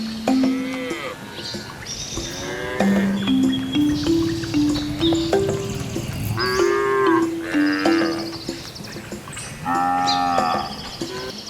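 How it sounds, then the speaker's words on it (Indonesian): Cows moo repeatedly, close and loud, with a run of drawn-out lowing calls one after another, joined by rustling and a faint bird in the background. "Sapi adalah hewan memamah biak ruminansia besar dan berkuku belai."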